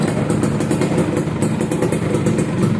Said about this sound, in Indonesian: Coba kita nyalain dulu motornya ya.